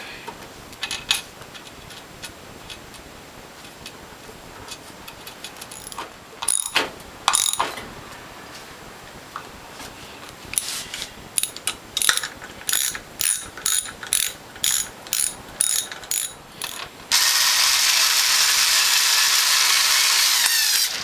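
Bolt securing the reservoir being tightened on a Premium base plate for a Norwalk or WHF juicer: scattered faint clicks, then a run of sharp, evenly spaced ratchet clicks, ending in a steady loud whirring burst.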